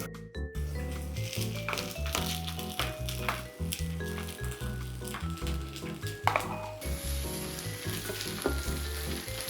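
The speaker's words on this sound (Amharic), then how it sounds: "አሁን ደግሞ ዋናውን ግብአታችንን ድፍን ምስራችንን እንጨምራለን።" Whole lentils added to a frying pan that already holds tomato sauce, a steady close sizzle with stirring scrapes and soft squishes under loud tonal background music, with no talk.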